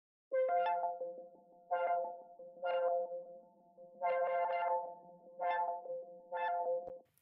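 Resampled ambient sound passes through an Ableton auto filter sidechained to the kicks, giving about six soft tonal swells that pulse in a steady rhythm with short dips between them, quiet and without talk.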